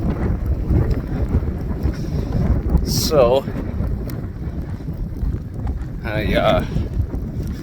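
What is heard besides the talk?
wind blowing into microphone outdoors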